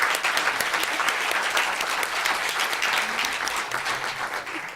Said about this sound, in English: Let's give everyone a round of applause on the e-board.